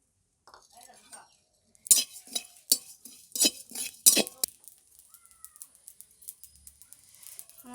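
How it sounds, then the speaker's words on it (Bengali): Cumin seeds roast in a pan in a village kitchen, with a burst of sharp metallic clinks and scrapes from stirring in the middle, then quieter rattling. "আমি জিরেটা ভেজে নেব।"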